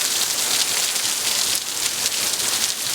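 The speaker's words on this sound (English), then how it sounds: "it is coming down like crazy. A lot of rain." Heavy rain pours down steadily during a severe thunderstorm, a dense, loud, continuous hiss of drops hitting surfaces with no pauses and no thunder standing out.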